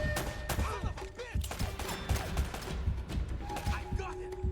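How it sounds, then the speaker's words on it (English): Gunfire in Uncharted: Drake's Fortune, a run of sharp shots and impacts scattered through a busy game mix, with a voice talking over parts of it. "I'm getting shot at"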